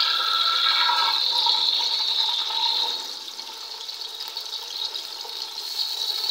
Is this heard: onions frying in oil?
yes